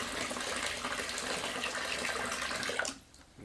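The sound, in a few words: bottled water poured into fish tank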